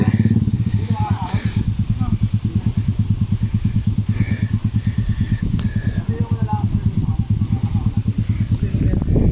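A motorcycle engine idles close by with a steady, rapid thumping rhythm, while voices murmur faintly underneath.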